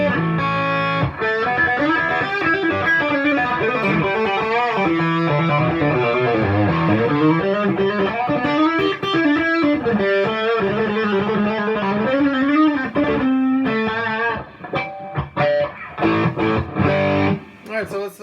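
An electric guitar runs through an OCD distortion pedal into a Fender Hot Rod Deluxe amp, playing loud, sustained overdriven chords and riffs continuously before breaking into choppier strums near the end.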